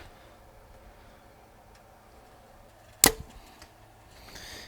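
An arrow loosed from a Mathews Lift compound bow, a single sharp snap with a short rattle after it, heard close against quiet outdoor wind.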